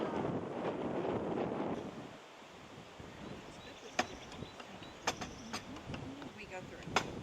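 Chilly wind rushes across the open fly bridge of a boat cruising along a shoreline, a continuous buffeting roar over the microphone with a few sharp bumps and clicks near the end.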